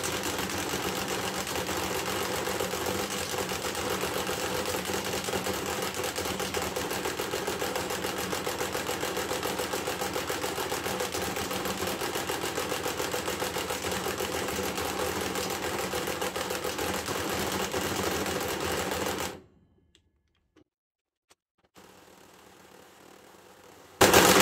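Parkside Performance PASSP 20 Li cordless impact wrench set to 130 Nm, hammering continuously on a bolt with a rapid buzzing rattle for about nineteen seconds, then cutting to near silence and a short final burst.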